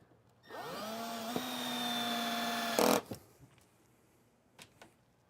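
Drill boring into hard Baltic birch plywood: a motor spins up and grinds steadily for about two seconds, then a loud burst as the bit breaks through, followed by a few light knocks and handling taps, no talk.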